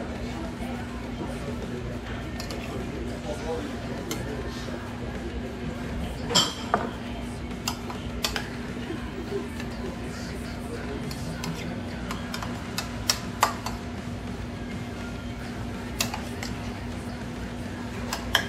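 Metal spoon clinking against a bowl at a lakehouse bar during a tater bowl eating challenge, with light scattered clinks and taps over steady background hum and low chatter.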